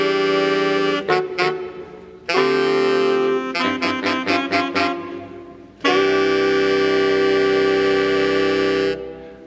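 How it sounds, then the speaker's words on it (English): The full reed section of the San Diego Musical Theater orchestra plays a loud, close passage of sustained chords broken by short staccato bursts and pauses, with no voices. "Now here is the entire Reed section at the same part."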